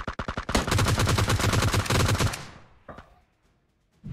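Gunfire in PUBG Mobile on the snowy Vikendi map: several quick single shots lead into a dense, loud burst of rapid automatic fire that fades out, followed by a couple of isolated later shots.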